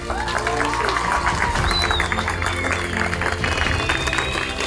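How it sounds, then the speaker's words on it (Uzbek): Applause at a private school ceremony for students and history teachers after certificate results: a dense, sustained crowd clapping that continues evenly through the whole stretch, with some background voices and a faint tone mixed in. "Buning uchun bularga ham, tarix o'qituvchilariga ham qarsak chop qo'yamiz."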